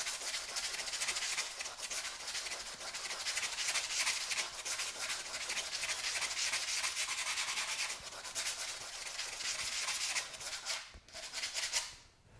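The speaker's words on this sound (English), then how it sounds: "Take our drywall sanding screen." Continuous abrasive rubbing of a drywall sanding screen on a largemouth bass skin mount, close and fairly steady, with rhythmic back-and-forth strokes that pause briefly near the end.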